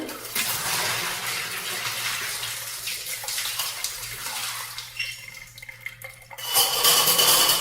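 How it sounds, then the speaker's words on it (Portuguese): Running water from a tap rinsing photographic film during darkroom processing, a steady splashing flow with small clinks of a container, the stream thinning midway then gushing louder near the end. "na água corrente ali"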